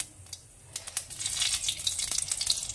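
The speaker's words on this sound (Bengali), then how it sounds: "তেল দিয়ে দিয়েছি, এবার একবারই ফোড়ন দিয়েই বসাবো। জিরে দিয়ে দিলাম, একটা শুকনো লঙ্কা দেবো" Cumin seeds and a dried red chilli crackle and sizzle in hot oil, a faint hiss swelling into busy, close popping over a few seconds, with no one speaking.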